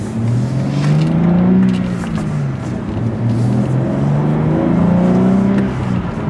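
A BMW M4 with manual transmission pulls hard and steadily, its low engine tone rising and falling through the gears, loud and close throughout.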